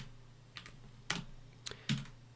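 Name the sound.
pressing Control-C on a computer keyboard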